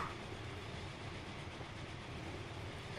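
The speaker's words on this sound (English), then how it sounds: "German train taking off there." A faint, continuous low rumble of a German train pulling away in the video game Transport Fever, steady and distant, with no voices.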